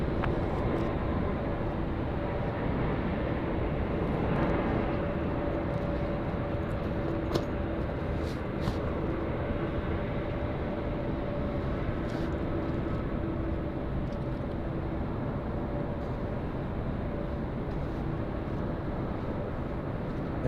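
An airliner arriving from the Gold Coast rolls in at Sydney Airport with a steady, heavy low roar and rumble that holds evenly for about twenty seconds, heard from a distance and alone.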